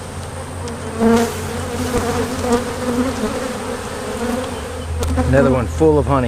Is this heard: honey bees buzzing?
yes